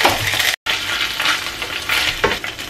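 Garlic paste and three or four bay leaves hit about two tablespoons of hot oil for an egg and cauliflower curry, giving a steady, close sizzle with stirring scrapes and one brief dropout.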